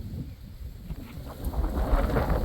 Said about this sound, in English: I got it blowing a gale, it is. It is quite windy.